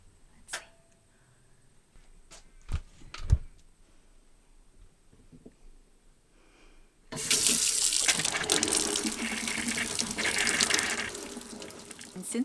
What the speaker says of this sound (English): now we'll be able to switch it back on and hopefully have some hot water